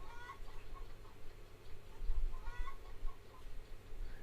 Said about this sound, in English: Chickens, yeah, you can hear them.